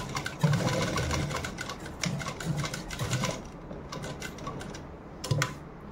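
A sewing machine stitching an aari work blouse, running steadily with a fast mechanical rattle and a few louder clunks, close by and continuous without talk.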